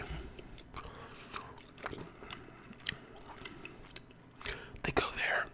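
Close, quiet gum chewing with soft wet clicks and smacks in an irregular rhythm, and a few louder crunchy bursts near the end, heard in an intimate ASMR setting.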